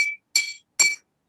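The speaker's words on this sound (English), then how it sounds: "so I have to knock on my glass" Three sharp clinks from knocking on a drinking glass used in place of a bell at an online conference session, each ringing briefly and evenly spaced, alone with no talk.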